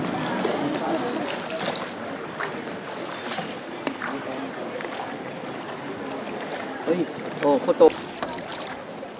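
Rowboats moving along water in Vietnam during a boat parade, with a steady rushing wash of water and wind noise throughout, while people talk nearby.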